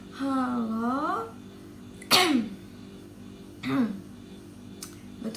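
Two sharp coughs a second and a half apart, loud and close, following a stretch of speech, with a faint click near the end.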